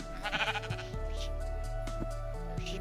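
A Minecraft sheep bleats in quick wavering pulses, then a steady synthetic tone lingers with light clicks, as in game audio.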